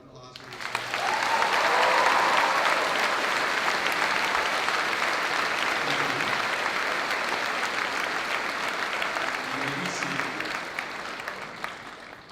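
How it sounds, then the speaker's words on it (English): School moving-up ceremony audience bursts into loud, sustained applause filling a large hall, with faint cheers and voices mixed in before it tapers off. "Do we have a round of applause for these guys?"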